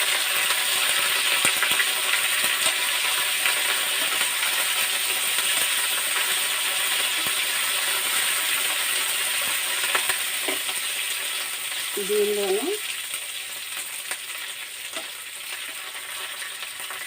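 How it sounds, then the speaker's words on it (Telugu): Dried red chilies and curry leaves fry in hot tempering oil for a brinjal dish, a loud, continuous crackling hiss with a brief voice near the end. "రెండు ఎండుమిర్చి వేస్తున్నాను తర్వాత ఇది కరివేపాకు కూడా వేస్తున్నాను"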